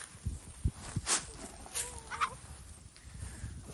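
Chickens from the main farm flock clucking and calling at close to middle distance, with scattered short squawks and shuffling over a low outdoor background.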